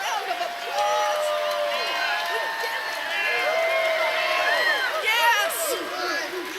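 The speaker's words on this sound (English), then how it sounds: "Can we give ourselves a round of applause?" An audience at a political rally in Boston applauds and cheers in a sustained, fairly distant crowd roar, with scattered whoops and voices rising over it.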